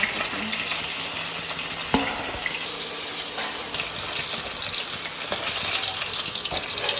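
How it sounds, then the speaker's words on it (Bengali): Drumsticks and potatoes fry in hot oil in a kitchen, a dense continuous hiss and crackle with one sharp knock, steady and close throughout. "আমি প্রথমে সজনে আর আলুগুলো ভেজে নেব।"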